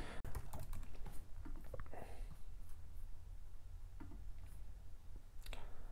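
Steady typing on a computer keyboard while entering a web address by hand, an uneven stream of light, close key taps over a constant low hum, no one speaking.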